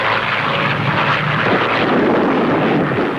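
A propeller airplane engine from a 1939 Tintin cartoon drones loudly and steadily, a dense, unbroken roar with no voices over it.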